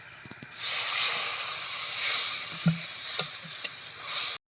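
Water hits a hot wok of spiced crab with a sudden loud hiss, then a sustained close sizzle with a few clacks of stirring before it cuts off abruptly.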